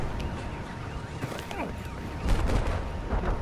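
Battlefield 4 shotgun blasts crack out amid a busy stretch of gunfire and booms, with a heavier hit near the end and a voice talking over the action.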